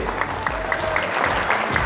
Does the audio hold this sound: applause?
yes